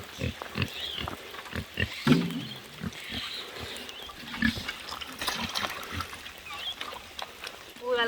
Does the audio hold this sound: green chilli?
no